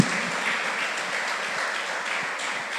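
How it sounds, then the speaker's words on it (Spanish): A church congregation claps in a steady, even wash of applause at moderate volume, sustained for a few seconds without speech. "Denle un aplauso al Señor con su justicia."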